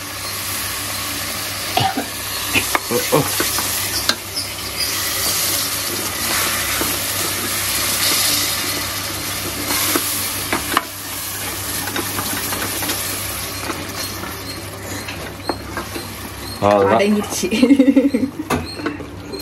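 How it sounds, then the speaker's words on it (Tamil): Curd stirred into a frying dish in a pan: continuous sizzling and frying with scraping stirs and clatter, under intermittent nearby talk. "தயிர் தூக்கி ஊற்றி அதுக்கப்புறம் கிண்டு"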